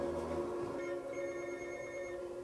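A telephone rings in a scene from the Korean TV drama Death's Game, a steady, continuous electronic ring with bright tonal harmonics, moderately faint and with no voices over it.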